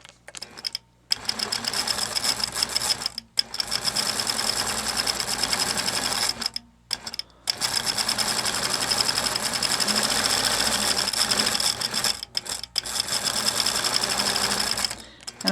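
A quilting sewing machine with its stitch regulator on runs in long, steady bursts of fast, even stitching, broken by a few brief stops, with no talk over it.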